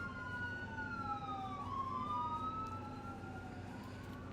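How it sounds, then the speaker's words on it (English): Three sirens wail together, their pitches sweeping up and down and crossing over one another, steady and fairly loud against a low traffic rumble. "Here we'll pause for the siren. It's actually 3 sirens."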